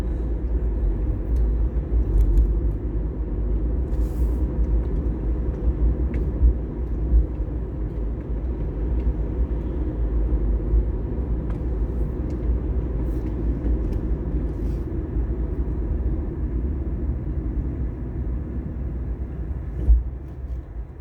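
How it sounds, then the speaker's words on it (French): A car being driven, heard as a steady low engine and road rumble throughout, with no clear changes in pace and no voices. "Je roule avec ma voiture"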